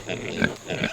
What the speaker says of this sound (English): How are you pigs? Like squeaky toys.